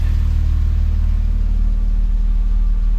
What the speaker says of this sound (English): we have good idle, just sitting below 800 there, around 750, and it's solid